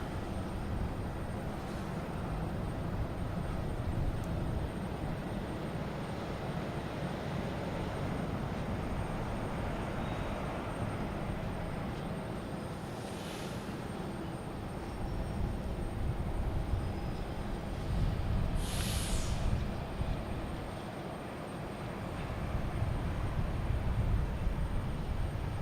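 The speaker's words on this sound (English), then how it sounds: "There's the American 777." An American Airlines Boeing 777 lands at Boston Logan, its low jet roar steady at a distance before swelling louder toward the end, with brief high whines over the rumble and no talking.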